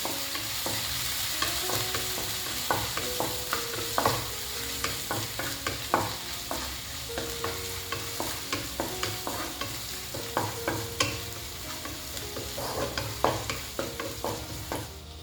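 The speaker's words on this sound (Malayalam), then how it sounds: "ഇഞ്ചിയും വെളുത്തുള്ളി പച്ചമണം ഒന്ന് മാറുന്നിടം വരെ ഒന്ന് വഴറ്റി കൊടുക്കണം" Crushed ginger and garlic sauté in a hot pan for a chicken thoran, with repeated stirring scrapes and clacks over a steady, close sizzle and no talking.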